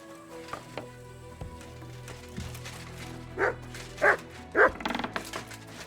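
A dog in the medieval game Kingdom Come: Deliverance II gives three short, loud barks in quick succession over a low, steady game soundscape with soft background tones.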